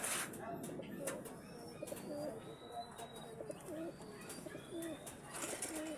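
Soft pigeon coos repeat in a steady rhythm over a busy outdoor background, with other birds chirping faintly nearby.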